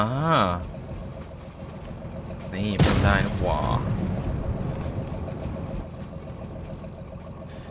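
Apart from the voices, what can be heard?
tank engine in a video game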